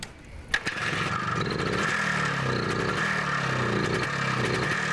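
After a sharp bang, motorcycle engines at a biker rock festival in Crimea settle into a loud, continuous roaring drone.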